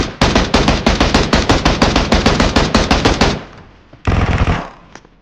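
An MG3 machine gun fires a long rapid burst of about fifteen sharp, evenly spaced shots in PUBG Mobile, then a short second burst after a brief pause, loud and close.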